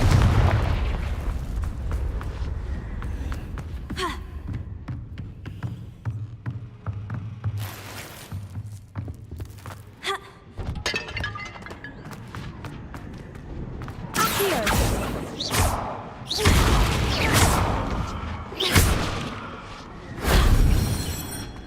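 Confringo blasting spell explosions from the video game Hogwarts Legacy: a run of loud, booming blasts that cluster in the second half, each a sharp burst over a rumbling low background.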